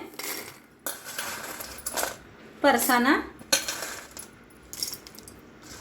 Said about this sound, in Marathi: मिक्सरचं भांडं घेतलेलं आहे, त्याच्यात टाकूया शेंगदाणे